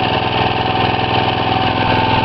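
A repaired Hoosier tiller's small petrol engine runs steadily at a smooth, even idle, loud and close, with a continuous mechanical drone and no voices.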